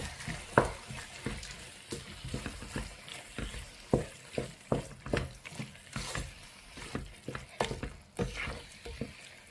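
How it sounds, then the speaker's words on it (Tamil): Spice paste stirred into a sizzling mixture in a frying pan, with steady frying hiss broken by regular scraping strokes of the spoon, close and with no voices. "சாந்தம் சேர்த்து இதோட நல்லா மிக்ஸ் பண்ணிடுங்க"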